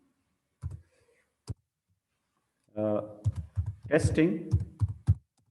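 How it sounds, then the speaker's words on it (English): A few computer keyboard keystrokes, a couple of isolated clicks near the start, followed by someone talking while more keys tap under his speech, close and fairly clear. "let me just type a comment."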